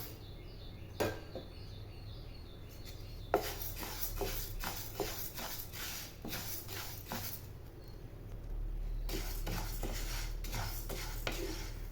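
Dry horse gram grains rattle and scrape as they roast in a metal pan, with intermittent stirring clinks and a low steady stove hum underneath.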